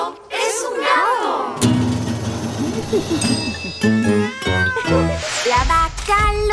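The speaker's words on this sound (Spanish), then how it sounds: "¡Eso es un gato!" Cat meows ring out within a lively Spanish children's song about a cow, with repeated clear tonal calls over bright music and singing.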